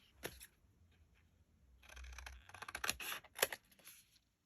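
Scissors snip through paper pocket tags at close range, a few quiet crisp cuts clustered toward the end amid faint handling rustle.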